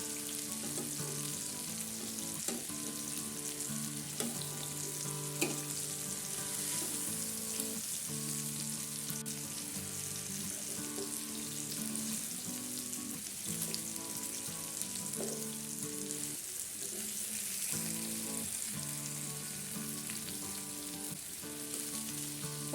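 Pomfret fish frying steadily in a hot pan, a continuous even sizzle with faint crackle, close and alone without talk.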